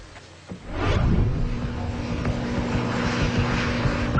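A Boeing 737 airliner's engines build from a faint start into a loud, steady roar that holds, with a rising tonal whine over the broad rumble.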